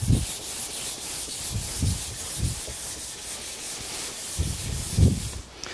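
Steady abrasive rasping of sandpaper rubbing across wood, continuous back-and-forth strokes with soft low thumps, close and moderately loud, no voices.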